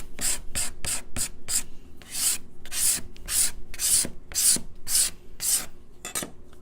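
A steel card scraper's edge is filed in about a dozen quick rasping strokes, a fast, even back-and-forth rhythm, close and fairly loud.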